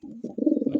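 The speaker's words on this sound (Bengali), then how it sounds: "দেখেন এই যে লাক্ষা কবুতর, একদমই ধবধবে সাদা" A pure white Lakkha pigeon gives a single short, throaty coo up close, a soft low warble lasting under a second.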